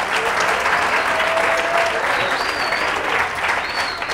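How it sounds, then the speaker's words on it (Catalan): A studio audience at the Pica Lletres quiz show on Canal Terrassa breaks into loud, dense applause for the Institut Lluís Companys de Ripollet students, sustained from start to finish with faint whistle-like tones drifting above the clapping. "Un aplaudiment per ells, si us plau."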